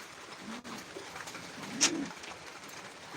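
Pigeons coo in a loft of breeding birds, with an old male pecking at a hen, giving low soft murmuring coos around the middle of the clip and a brief higher call, fairly close over a quiet room with no talk.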